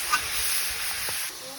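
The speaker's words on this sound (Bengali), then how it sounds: "মাছের তেল ভাজি করতেছি বেগুন দিয়ে" Eggplant fries in fish oil in a pan, giving a steady, close high sizzle and hiss that runs evenly and cuts off just before the end.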